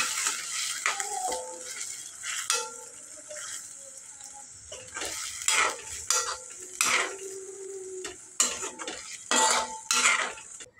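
A spoon stirs matki usal, cooked moth bean sprouts, into browned onion in a pan, giving repeated metallic scrapes and clinks with soft wet sizzling underneath, close and steady, with no talking.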